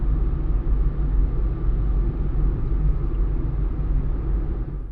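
Inside a Citroen C1 cruising at 40 mph in fourth gear after sound deadening was fitted, a steady low road and engine rumble fills the cabin with broadband wind hiss above it, constant and even throughout.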